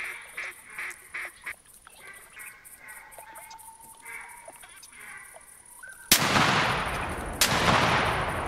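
In the video game theHunter: Classic, ducks honk in a quick rhythmic series, then a sudden loud shotgun blast lands, followed by a second shot, with a noisy rumbling tail.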